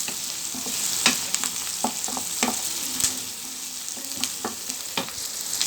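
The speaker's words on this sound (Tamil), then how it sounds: "இதில் வந்துட்டு லைட்டாக உப்பு போட்டுக்கோங்க, சீக்கிரம் வதங்கிடும். இது நல்லா வதங்கட்டும்." Chopped tomatoes sautéing with salt in a pan for tomato thokku, a steady close sizzle and crackle with occasional stirring scrapes and spatters, no voices.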